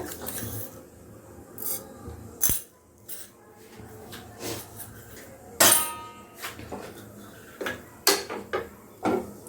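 Mustard seeds crackle and pop in hot mustard oil in a kadai while the potato masala filling for spinach paratha is cooked, giving sporadic sharp spits and sizzles at close range.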